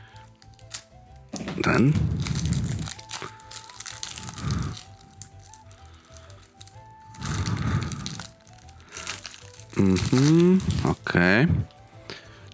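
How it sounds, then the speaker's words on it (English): Scissors cut through strong plastic packaging from a board game box in several bursts of close crinkling and crunching, with someone talking briefly between cuts. "just using the scissor now because the plastic is a bit strong for me"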